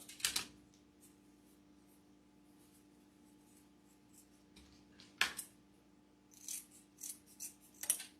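Quiet, close snips of scissors cutting the wired ribbon tail of a handmade bow, a sharp cut near the start and another midway, followed by a cluster of lighter snips and ribbon rustles toward the end.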